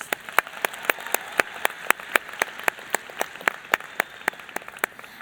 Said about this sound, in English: Let's give one round of applause for all of our candidates on their well-done speeches